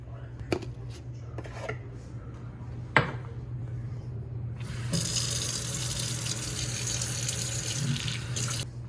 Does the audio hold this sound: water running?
yes